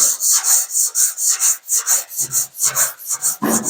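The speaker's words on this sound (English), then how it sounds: "we're gonna block these areas that I primed. I have a soft block, and I have my trusty paint stick block" A sanding block rubs back and forth over primed bodywork in quick, rhythmic rasping strokes, close and loud, about a dozen passes with no talk.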